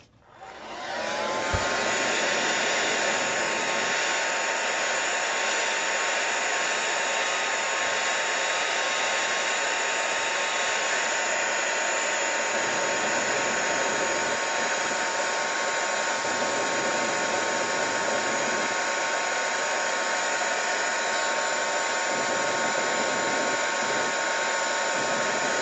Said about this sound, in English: Let's blow dry that real quick.